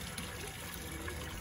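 Water pouring into a crawfish boil pot, a steady rushing gush of liquid filling the vessel, fairly quiet and continuous with no voices.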